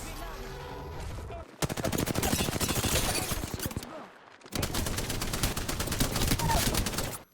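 Rapid bursts of automatic gunfire from the first-person shooter Apex Legends, two long dense volleys separated by a short pause, loud and continuous with no talking.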